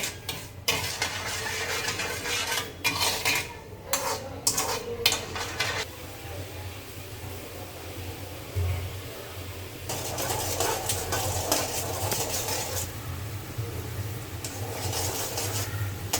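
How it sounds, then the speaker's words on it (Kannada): Sugar syrup boils in a pan on the stove while a spoon stirs it, giving a steady close bubbling sizzle with scraping strokes against the pan and occasional clinks, no talking. "ಪಾಕ ಎಷ್ಟು ಚೆನ್ನಾಗಿ ಕುದೀತಾ ಇದೆ"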